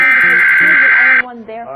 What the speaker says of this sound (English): the eerie beeping tones of the emergency alert system